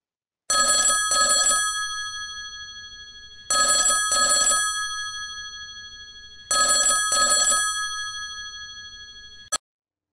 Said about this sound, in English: Try and make the sound of a phone bell.